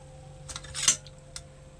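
A utensil lifts fried rice-flour flatbreads (tapala chekkalu, sarva pindi) out of a pan, with a few quiet scrapes and clinks, one louder metallic scrape in the middle, over a faint low hum.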